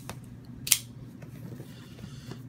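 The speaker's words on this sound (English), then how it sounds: "Let's cut this bad boy open." A Batman knife slices into a cardboard Loot Crate box with one sharp, close cutting swipe, followed by a few faint ticks and rustles in a quiet room.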